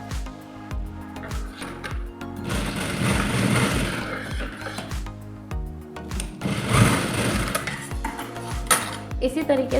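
Sewing machine stitching tucks into a lined blouse, bursts of rapid needle clatter starting and stopping in short runs, close and moderately loud, with someone talking in between.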